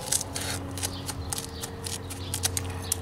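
Stone veneer pieces being cut for a wall installation, a steady low grinding hum with repeated short scraping bursts and clicks running through, fairly close.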